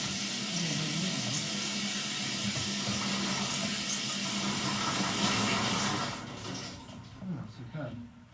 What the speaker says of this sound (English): I like the shower and the sound effects as well